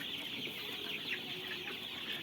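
One-month-old Sonali chicks on a netted farm cluck and cheep continuously at a moderate distance, a busy flock murmur with no people talking.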